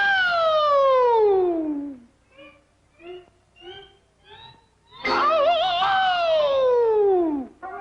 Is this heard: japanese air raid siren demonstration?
yes